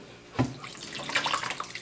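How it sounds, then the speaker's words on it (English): Tap water runs briefly into a pan while a pork chop and rice casserole is being prepared, a short close splash then a light trickling flow lasting under two seconds. "Might go with some more water."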